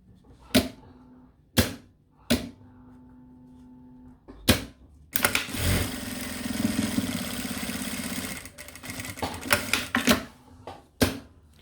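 A sewing machine stitches the lining of a mini backpack: several short, sharp mechanical bursts separated by pauses, then a longer steady run of rapid clatter, heard up close with no speech.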